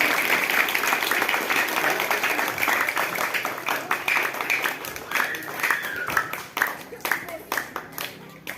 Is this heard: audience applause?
yes